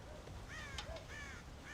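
Crows caw in the video game Red Dead Redemption, several harsh rising calls repeating over a constant low background hum at a moderate distance.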